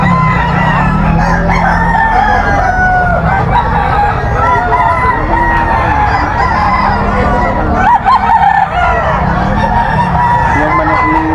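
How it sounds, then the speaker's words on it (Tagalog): A rooster crows amid dense, loud background noise with other fowl calls, continuous and busy throughout. "Yan manok ni Bay Dani."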